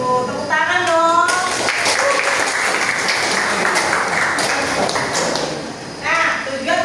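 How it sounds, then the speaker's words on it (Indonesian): A classroom of students applauding, with steady, dense clapping that fills several seconds before it fades, while a teacher's voice is heard at the start and the end. "Tepuk tangan dong."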